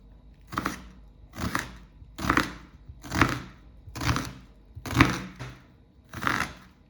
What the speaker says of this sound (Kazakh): Одан соң қызыл пияз, оны да кубик қып тураймыз.